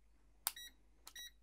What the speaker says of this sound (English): we should hear a beep from the looks of it